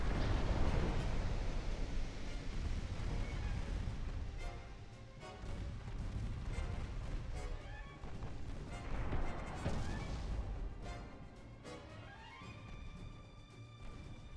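Heavy naval gunfire impacts crash and boom in Ultimate Admiral Dreadnoughts, a series of loud rumbling explosions and shell hits on a battleship engagement, rolling and overlapping with short lulls between bursts.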